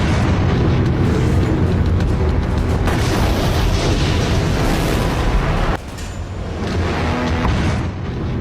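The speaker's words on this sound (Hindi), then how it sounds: "जबरदस्त धमाका" A bomb explosion heard as a continuous, loud, roaring rumble that stays heavy throughout and eases slightly partway through, with no voices.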